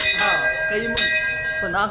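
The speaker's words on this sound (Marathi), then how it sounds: "ही घंटी वाजवतो" A bell rings at a Datta temple, its steady metallic tone sustaining and overlapping as it is struck, close by and fairly loud, with people talking over it.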